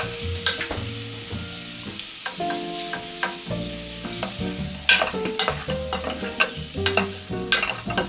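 Close, continuous scraping and clattering of a utensil stirring braised potatoes with sesame oil and sesame seeds in a pan, with soft sizzling beneath and occasional louder knocks.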